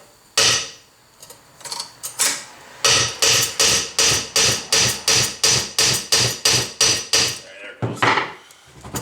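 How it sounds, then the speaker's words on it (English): A hammer strikes a cast metal Ford 6.0 turbo part about fifteen times in a steady, fast rhythm, each blow loud and ringing, after a few scattered opening hits. "So let me get a hammer and give it a whack"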